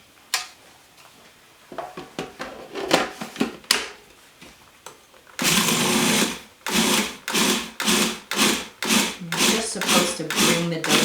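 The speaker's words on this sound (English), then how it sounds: "So really it's much quicker process if we just put it into a food processor." A food processor pulses fresh pasta dough in short, loud bursts, first a run of quick chops, then a longer whir followed by a regular series of close, strong pulses.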